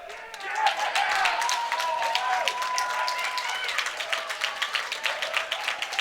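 A crowd cheers and claps at a boys' high school swim meet in an indoor pool as a swimmer makes a state qualifying time, with a sustained roar, whistles and rising applause, and a commentator's voice over it.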